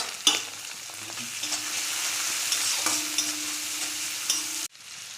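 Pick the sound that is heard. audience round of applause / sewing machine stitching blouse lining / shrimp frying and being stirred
shrimp frying and being stirred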